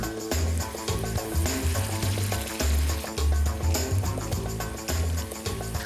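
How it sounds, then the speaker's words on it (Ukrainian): Meat and courgette patties sizzle and crackle steadily in a hot pan over high heat, a continuous close frying sound with no talking. "Спочатку на великому вогні обсмажуємо з обох боків до приємної золотавої скоринки"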